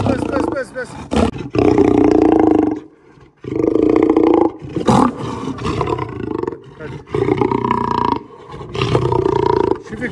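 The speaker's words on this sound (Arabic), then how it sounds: "هذا الاسد يخاف من حرمته" A lion roars up close, loud and deep. The roars come in long sustained bursts separated by short pauses, and each one has a rough growling texture.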